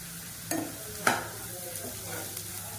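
Onions sautéing in a pan with cinnamon-clove powder, a soft sizzle broken by two sharp utensil scrapes against the pan, close and fairly quiet.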